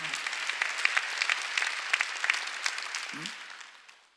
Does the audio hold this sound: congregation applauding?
yes